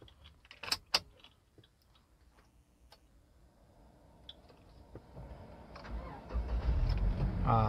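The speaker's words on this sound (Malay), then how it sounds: "sekarang saya nak start. So boleh dengar bunyi enjin dia macam mana" A few clicks and key jingles, then the engine of a 2010 Toyota Fortuner 4x4 SUV cranks and catches, settling into a steady idle that grows louder.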